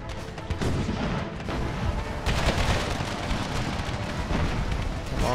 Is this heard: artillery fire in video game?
yes